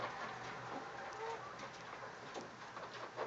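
Faint clucking and soft cooing from small bantam Wyandotte chickens on a farm, low and distant over a steady background hiss.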